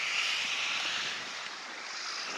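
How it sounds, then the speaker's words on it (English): Blustery wind outdoors on a hot day, a steady full rushing roar that holds fairly even throughout. "There's a blustery wind, so that's helping a lot."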